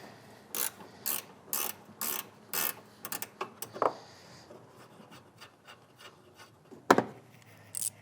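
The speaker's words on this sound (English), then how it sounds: "Now we have a 10mm nut right here we need to remove." A ratchet removes a 10mm nut on the intake of a 2015–2021 Subaru WRX with FA20 engine, heard as several quick bursts of close pawl clicking, then softer fiddling and a sharp knock.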